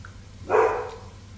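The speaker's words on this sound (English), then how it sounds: "Don't mind my dogs." A single short dog bark rings out in a home kitchen where tomato pasta sauce is cooking, moderately close, with low background hum around it.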